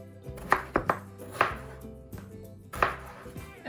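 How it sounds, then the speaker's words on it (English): A knife dices potatoes on a cutting board in sharp, close chops, some in quick pairs with pauses between, each stroke a crisp thud against the board. "Okay, I'm gonna put these diced potatoes in a bowl."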